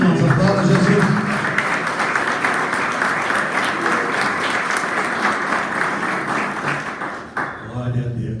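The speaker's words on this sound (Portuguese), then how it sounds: "Aplauda Jesus." A church congregation claps together in dense, sustained applause during a worship service, loud and continuous before cutting off near the end, where a voice resumes speaking.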